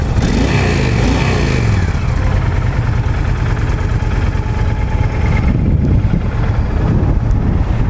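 A used 2007 Honda VTX1300R motorcycle engine runs at a steady idle, a loud, close, even low rumble that continues unbroken, with some wind buffeting the microphone.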